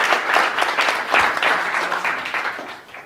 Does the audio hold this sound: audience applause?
yes